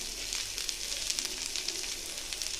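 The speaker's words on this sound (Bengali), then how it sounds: "এইবার সব একসাথে একটু ভেজে নেব।" Spices sizzle steadily in a hot pan with turmeric, chili, salt and a little sugar for a Bengali small-fish curry of mourala. A close, continuous crackling fry with no voices.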